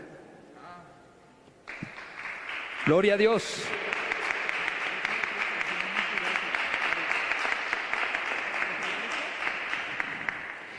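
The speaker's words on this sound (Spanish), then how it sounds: "dé un fuerte aplauso a Dios" A church youth congregation breaks into loud, sustained applause after a brief spoken line, the dense clapping mixed with shouted voices and continuing steadily to the end.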